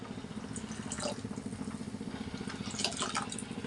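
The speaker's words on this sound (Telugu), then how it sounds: "ఇప్పుడు శనగపిండి జల్లి పట్టుకొని ఇట్లా వాటర్లో కలుపుకొని పోసుకోవాలి." Gram flour mixed into water poured into a pot of sambar, giving a steady, continuous liquid pour with light dripping and splashing that runs for the whole stretch, with no talking.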